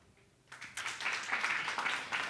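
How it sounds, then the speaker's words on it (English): An audience at a blockchain conference in Kyiv bursts into applause after a quiet moment, a dense wash of clapping that swells quickly and holds steady to the end. "Please give a big round of applause."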